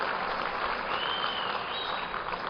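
Steady, dense applause from a banquet audience at a Hall of Fame awards dinner, filling the room evenly at moderate loudness for a couple of seconds with no talk.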